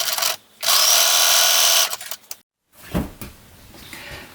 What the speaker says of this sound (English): You're going to sew these ends together with a 3/8 inch seam allowance backstitch when you start and when you stop.